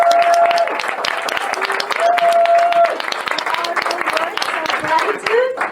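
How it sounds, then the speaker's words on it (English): An audience at a Canadian women's voting event claps in a sustained round of applause, with a voice speaking over the clapping throughout. "And a big round of applause for a wonderful moderator, Cynthia."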